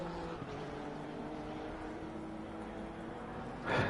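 GT3 race car in the Assetto Corsa Competizione racing game at Oulton Park, a steady engine drone with a low rumble running throughout, then a brief louder burst near the end, no commentary over it.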